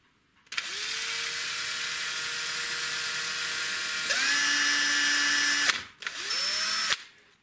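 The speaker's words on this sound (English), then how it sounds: "So I've just put a 1 mil bit in my drill" An electric drill with a 1 mm bit whines loudly, enlarging a 0.8 mm hole in a Tri-ang model railway diamond crossing, spinning up, running steadily, then briefly stopping and revving again in short bursts, with no one talking.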